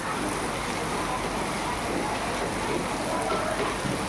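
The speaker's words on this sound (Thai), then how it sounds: "ฝนตกแรงมากภาวนาขอให้หยุดนะคะ" Heavy rain pours steadily and loudly outdoors near a kitchen shelter, a dense unbroken hiss with no pauses and no voices.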